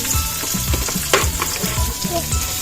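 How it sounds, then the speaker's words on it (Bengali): Chopped onions fry in a pan alongside garlic, ginger and carrot, a close, steady sizzle with soft stirring scrapes and clinks throughout. "পেঁয়াজগুলো একটু ভেজে নিই"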